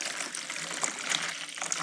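Warm water is poured into a container for a children's ocean science experiment. It makes a steady, close splashing trickle that runs for the whole moment without pause.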